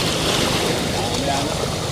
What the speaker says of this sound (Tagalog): Ang lakas ng alon mga master, oh.